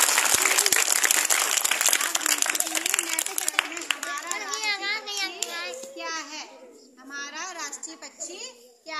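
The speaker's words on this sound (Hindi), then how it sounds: "तो रिंसु के लिए तालियां" Children clap for a classmate during a school quiz game, a dense burst of hand claps that thins out within a few seconds as a voice and then other speech take over.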